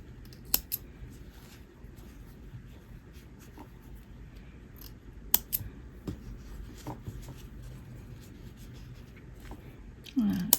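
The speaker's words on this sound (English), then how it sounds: "let's just cut off all these ends now" Scissors snip off yarn ends on a small crocheted egg, a few sharp, sparse cuts spread across a quiet stretch, close and fairly soft.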